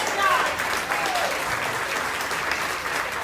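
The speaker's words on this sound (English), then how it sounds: "Big round of applause for our amazing captain, Captain Kate" Passengers at a Captain's Club celebration aboard the Celebrity Equinox cruise ship applaud the captain, a sustained, even wash of many hands clapping, with a few voices faintly underneath.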